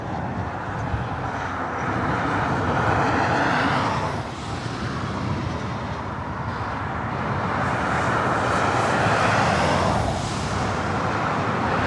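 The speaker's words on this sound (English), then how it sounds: "the Asiana A380 Super, next arrival" Asiana Airbus A380 airliner, flight from Seoul, arriving at LAX with a loud, continuous roar of jet engines that swells and sweeps past over several seconds.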